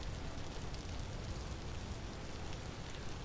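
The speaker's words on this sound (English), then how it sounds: "I didn't actually hear it was still raining outside." Rain falls outside in the video game Vintage Story as a soft, even hiss, faint and continuous with no distinct drops or talking.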